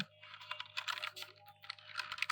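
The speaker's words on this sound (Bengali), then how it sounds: "এখন জাস্ট আপনারা টাইপ করতে হবে আপনাদেরকে" Quick bursts of keystrokes on a computer keyboard, close and fairly quiet, tapping in uneven clusters with a short pause midway over a faint steady hum.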